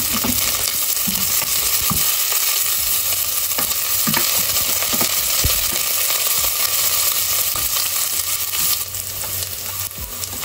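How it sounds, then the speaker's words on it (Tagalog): Onions sauté in a hot pan for menestra de verdura, giving a loud, steady sizzle broken by scraping stirs and small clatters throughout. "Mainit na yung yung aking lutuan. Bibisan ko lang siya ng sibuyas."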